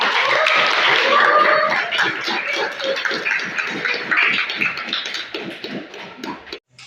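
Students clapping together in a classroom, a dense, steady burst of applause that stays fairly loud for several seconds before thinning out and stopping.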